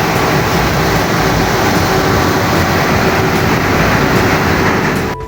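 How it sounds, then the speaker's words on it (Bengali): A moving train roars loudly and continuously from right beside the engine, with a dense rumble and rhythmic rattling of the carriages throughout. "ট্রেনটা এখন চলতেছে"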